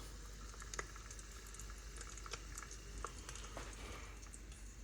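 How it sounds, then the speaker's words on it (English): Silca chain wax boils in a hot pot on a low sauté setting, a faint, steady bubbling and popping with soft scattered crackles and a low hum underneath. "The pot is hot. It boils."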